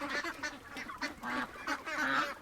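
Ducks quack loudly and close by in a rapid run of repeated nasal calls, several voices overlapping with barely a gap.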